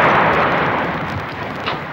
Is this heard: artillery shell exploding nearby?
yes